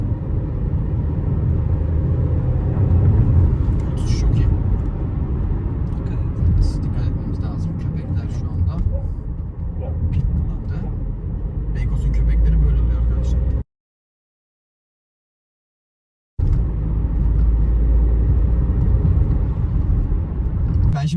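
Steady low road rumble and wind noise inside a 2021 Seat Arona driving at speed, heard from the cabin with a voice at times, broken by a brief complete dropout before the drone resumes.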